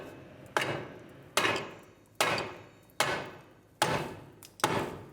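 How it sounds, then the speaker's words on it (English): Six evenly spaced hammer strikes ring out on a rusted, fused rear strut and knuckle of a 1997-2001 Lexus ES300, each a sharp clang with a brief decaying ring, steady rhythm about one per second. "Now I'm going to grab a hammer, try to separate these two."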